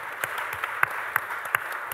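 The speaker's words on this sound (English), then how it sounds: "That deserves a round of applause," A small audience at a workplace readiness panel during a talent industry event gives a few scattered, faint claps, sparse and uneven rather than a full ovation.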